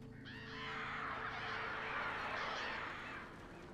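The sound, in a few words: crows cawing in video game Alan Wake Remastered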